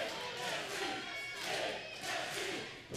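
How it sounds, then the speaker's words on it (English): A wrestling crowd at a match chants in a steady, swelling roar that fills the arena, with repeated rhythmic rises and falls and no clear single voice standing out. "Crowd chanting again, Big Nasty, Big Nasty."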